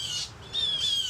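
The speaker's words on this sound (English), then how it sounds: "that bird is really annoying" A bird squawks in harsh, high, grating calls, one after another, loud and fairly close against a steady background hiss.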